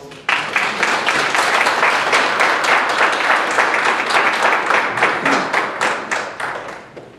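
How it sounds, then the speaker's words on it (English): An audience at a student panel breaks into sustained applause, a dense patter of many hands clapping at steady volume before tapering off near the end. "I think we should all give them a round of applause"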